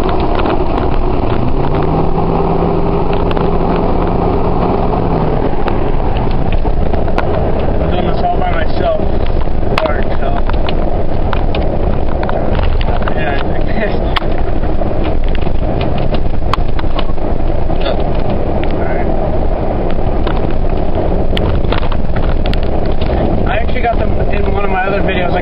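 A 2004 Ford F-150 with a Thrush muffler drones loudly while cruising, steady exhaust rumble and wind noise heard from inside the cab, with someone talking over it.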